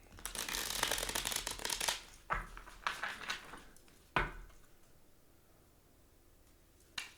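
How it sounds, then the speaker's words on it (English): Tarot cards shuffled by hand, a dense riffling flutter for a couple of seconds followed by several separate slaps and bursts as the deck is cut and squared, close and crisp, then quiet with a final tap. "I shuffle them during the live"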